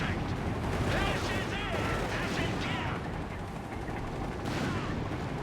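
Gunfire in a Company of Heroes 3 match with Wehrmacht against US Forces, rattling bursts and booming artillery layered into a dense, continuous battle din at moderate volume.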